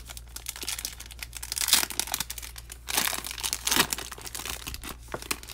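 Wrappers and torn foil from freshly opened trading card packs from a blaster box crinkle and crunch in close, busy bursts, with louder rustling peaks around two and four seconds and no talking.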